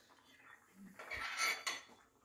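Metal kitchen utensils and pots clatter and clink as someone rummages for a small ladle in a home kitchen, a few close bursts of scraping and clanking rising briefly, then fading.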